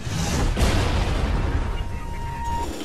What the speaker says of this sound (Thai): เดี๋ยวไปลองยิงกัน